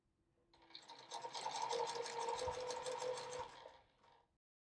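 A sewing machine chain piecing quilt squares runs in one steady, fast stitching burst of even mechanical rattles, starting and stopping cleanly, alone and close.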